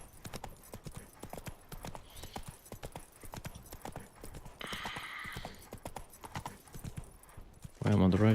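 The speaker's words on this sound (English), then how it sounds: "Whoa there, Roach" Horse hooves clip-clopping in a steady trot in The Witcher 3: Blood and Wine, with a rhythmic patter under game sounds and a loud burst near the end.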